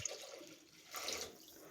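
Two tumblers of water are poured into a pan of roasted semolina while making sweet kesari, giving a brief, soft splashing gush that swells midway and then settles.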